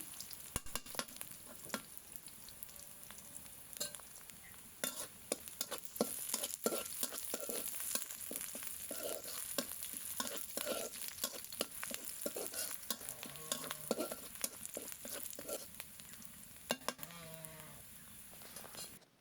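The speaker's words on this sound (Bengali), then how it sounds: "পেঁয়াজ মরিচগুলো ঠিক এইভাবে ভেজে নিতে হবে" Onions and green chilies frying in a pan for a leafy greens dish, a continuous close sizzle broken by frequent scraping stirs, with faint bleating of a sheep or goat in the background.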